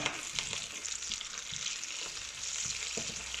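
Slices of chorizo sizzle and fry in a hot pan, a steady crackling hiss with occasional soft knocks of stirring, close and loud, no voices.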